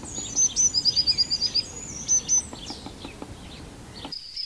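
Blue tits calling in a garden with sunflowers; a series of quick, high, thin notes in two bursts, close and clear over a soft outdoor background.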